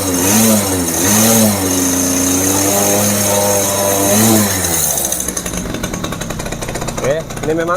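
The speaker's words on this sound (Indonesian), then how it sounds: "Halus ya, mesinnya halus tuh." Suzuki Force 1 ZR two-stroke motorcycle engine running just after a carburetor install, a loud close steady hum with smooth rising and falling revs, then a rougher buzzing idle toward the end.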